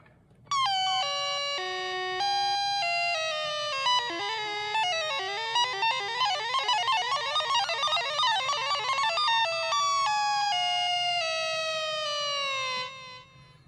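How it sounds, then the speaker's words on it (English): A Roland MC-101 synthesizer sample and hold effect, a tone jumping between random stepped pitches in a steady choppy pattern, bright and buzzy, playing continuously for about twelve seconds. "So it's almost like a random square wave type of thing. So sample and hold"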